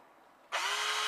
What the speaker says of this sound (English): We're just going to pop this drill. What's it like on 12 volts, Chris?